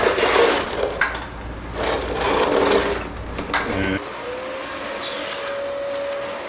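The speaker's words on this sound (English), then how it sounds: "I don't know how vacuums work." A vacuum cleaner roars with broad, breathy noise for about four seconds, then settles into a steadier, thinner whine with a high tonal hum, close and fairly loud.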